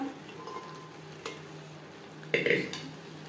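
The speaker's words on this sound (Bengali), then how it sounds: "টমেটোর কাঁচা গন্ধ যাওয়া পর্যন্ত নাড়াচাড়া করে নেব।" A spoon stirs tomato masala cooked with mutton fat in a pan for chana masala, giving soft scrapes, a quiet sizzle and a brief burst of louder scraping and clinking near the end, close and fairly faint.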